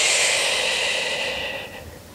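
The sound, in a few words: storyteller imitating a witch's snoring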